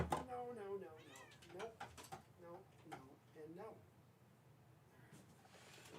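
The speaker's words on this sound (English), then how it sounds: "Cat's just kicking down stuff, trying to bring the house down." A house cat meows in several rising, drawn-out calls over a quiet room, fairly close, with a person's voice mixed in; no clear thumps of objects being knocked down stand out.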